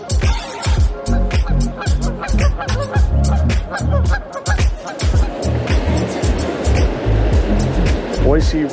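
Rushing river rapids at the Boise River Whitewater Park, a steady, loud broadband wash of churning water with voices talking over it throughout.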